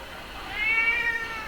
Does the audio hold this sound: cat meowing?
yes